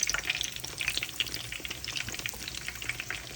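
Aubergine and potato fritters (beguni and aloo chop) crackle steadily as they fry in hot oil, a close, continuous sizzle with fine bubbling spatter and no talking.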